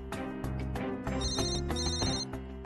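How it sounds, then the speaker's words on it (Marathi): A mobile phone ringtone plays loudly and continuously, a looping melodic tune with steady tonal notes and no talking over it. "फोन घ्या."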